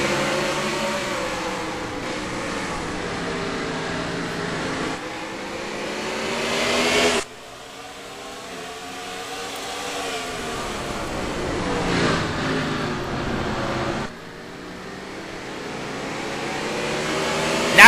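NASCAR race cars in a video game roar off at the green flag at Martinsville, a loud continuous engine drone that rises and falls in pitch as the pack passes, cut by a couple of abrupt shifts.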